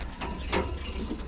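Pigeons in a loft give a soft, low coo amid faint rustling and shuffling, with one brief louder call partway through the short stretch.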